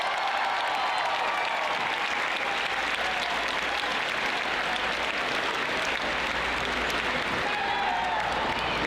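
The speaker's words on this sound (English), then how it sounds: "Let's give Heiden a big round of applause." An audience claps steadily throughout at a school event honouring a child, a dense, even round of applause without pause.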